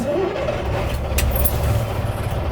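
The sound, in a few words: ÖAF 20320 6x6 truck V10 engine running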